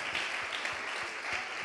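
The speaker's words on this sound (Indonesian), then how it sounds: "Jadi tepuk tangan buat Anda sekalian ya." An audience at a church opening service claps together, a steady wash of applause that stays even and moderately quiet for its short span.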